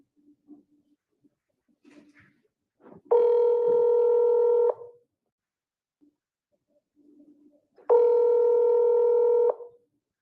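A telephone call is being placed: two long, steady ringback tones about five seconds apart, each lasting roughly a second and a half, with faint clicks and quiet noise in the gaps and no talking.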